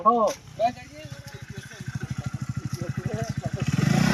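A motorcycle engine fires up and settles into a fast, steady putter that grows louder as the bike pulls away, with brief voices at the very start.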